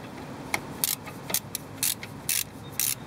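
Ratchet clicking in short bursts while tightening the top caliper screw into the guide pin on a car's front brake, about five quick ratchet runs, close and clear with no talk.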